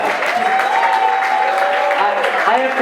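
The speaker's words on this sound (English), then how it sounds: "Give Marie a big round of applause." Crowd applause at a fundraiser honoring Marie Woodson, a steady, loud wash of clapping throughout, with faint voices and cheering mixed in.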